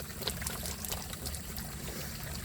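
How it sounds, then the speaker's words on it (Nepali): Water trickles and drips out of a tree on a hillside trail in Nepal, a steady close splashing patter with bright irregular drips running through the whole stretch. "यो रुखबाट आउँछ कि पानी यस्तरी झर्छ"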